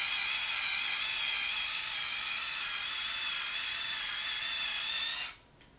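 An InStyler wet-to-dry hair tool steams damp hair, giving a steady, close hissing whir that holds evenly for about five seconds and then cuts off abruptly, with no talking.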